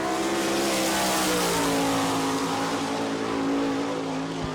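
A sprint race car with an Eagle chassis and Gurney racing engine drones steadily on a Florida dirt oval, the engine note holding and shifting slightly in pitch as it runs at a distance, with no voices.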